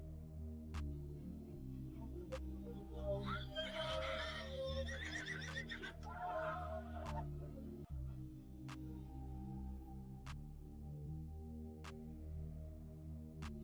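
A horse whinnies once in the middle, a shaky high neigh over a steady low background hum, with faint tapping clicks around it.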